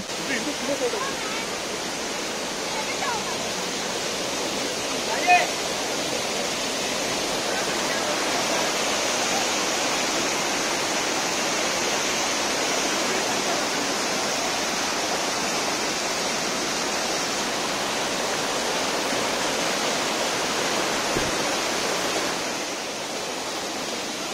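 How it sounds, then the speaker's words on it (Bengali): Kanchenjunga Waterfall near Pelling roars with rushing water and a flowing stream, a dense, steady broadband wash that holds constant throughout, with no voices over it. "আর আপনারাও দেখুন আর জলের আওয়াজ শুনুন, স্রোতের আওয়াজ শুনুন"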